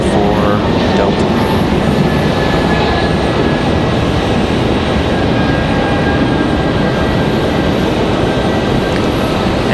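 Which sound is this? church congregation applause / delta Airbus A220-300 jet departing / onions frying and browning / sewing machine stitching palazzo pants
delta Airbus A220-300 jet departing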